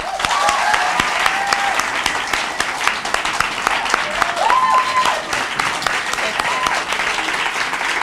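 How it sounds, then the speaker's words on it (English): An audience applauds in a steady, dense burst of clapping that lasts throughout, loud and close, with no voices over it. "Let's give her a round of applause."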